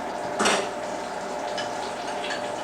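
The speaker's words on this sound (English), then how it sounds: "Put that one in the sink. Put the fork in the sink." A spoon and fork are set down in a kitchen sink, giving one short metallic clatter of cutlery against the basin, followed by faint kitchen background.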